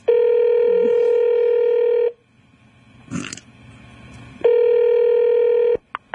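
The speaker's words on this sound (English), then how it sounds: "You were doing the Todd phone scams." Telephone tones sound loud and clear as a prank call is dialed: two long sustained tones separated by a quiet pause with a brief rustle, ending in a few short clicks.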